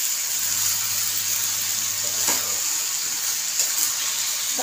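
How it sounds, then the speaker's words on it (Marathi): Eggplant and potato sautéing in oil over medium heat, a steady close sizzle with a low hum and occasional stirring clinks, no voice. "चांगली तेलामध्ये परतून घ्यायचं."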